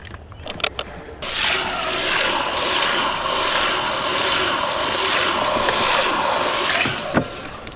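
Water pours steadily and loudly into a homemade fishing livewell, a continuous rushing gush lasting several seconds after a few brief knocks, then cutting off with a final clunk.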